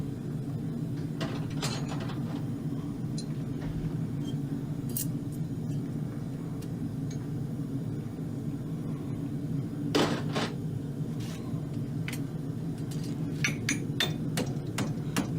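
A hammer stamps nail holes into a fullered concave hind riding-horse shoe. Sharp, ringing strikes land irregularly, some in quick clusters, over a steady low background hum.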